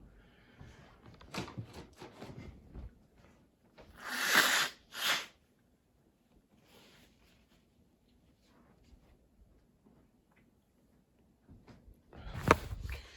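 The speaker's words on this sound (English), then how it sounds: "Hold up, I gotta blow my nose again." A person blows their nose, with a couple of loud honking blows in the middle and another near the end, among quieter rustling and handling sounds, with no talk.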